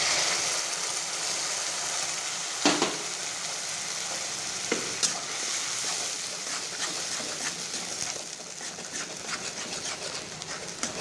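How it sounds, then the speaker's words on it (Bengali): Ground spice paste of ginger, onion, green chilli, coriander and cumin frying in oil for an egg and potato curry, a steady close sizzle with a few sharp stirring knocks. "এখন একটু ভালো করে ভাজা হবে।"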